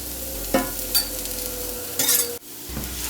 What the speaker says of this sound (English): We're gonna cook that until it's about half done.